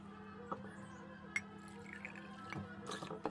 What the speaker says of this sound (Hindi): अब हम इन दोनों जार्स में डालेंगे थोड़ा थोड़ा सा पानी।